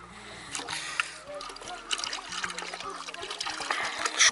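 Salmon roe being rinsed in water, with steady trickling, dribbling and light splashing close by, a low hum underneath, and someone speaking over it.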